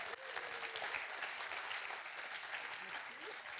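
An audience at a Sunny Tech 2023 conference keynote claps for several seconds, a dense even patter of many hands heard from within the room. A faint voice can be made out underneath.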